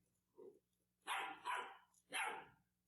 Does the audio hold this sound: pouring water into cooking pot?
no